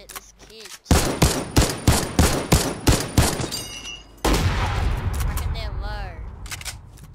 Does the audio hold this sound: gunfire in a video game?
yes